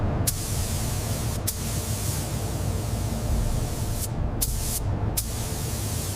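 A spray gun applies pink paint to a 1959 Cadillac Eldorado Biarritz, giving a continuous close hiss of spray broken by a few short sharp bursts and pauses, with no voices.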